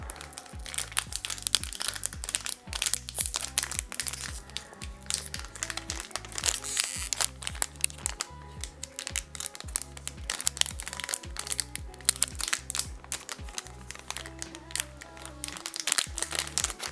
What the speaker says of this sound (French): C'est parti, déballage d'un autre booster.